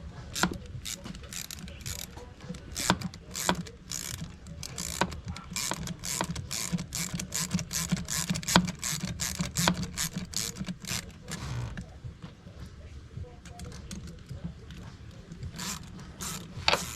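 Ratchet and deep socket wrench working on fasteners during a Magnum GT cold air intake install on a 392 Challenger Scat Pack, repeated clicking bursts over a steady low garage hum, close and moderately loud.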